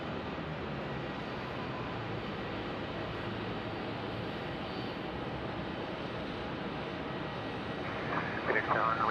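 An airplane arriving on runway 26 at Phoenix Sky Harbor Airport. It gives off a steady, broad engine roar that fills the whole stretch at moderate distance and swells slightly near the end, with no clear talk.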